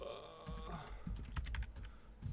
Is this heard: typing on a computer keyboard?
yes